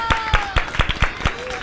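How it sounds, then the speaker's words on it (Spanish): Children clap in rhythmic unison, about seven sharp, evenly spaced claps close by, with a faint tone running underneath. "¡Oye, un aplauso!"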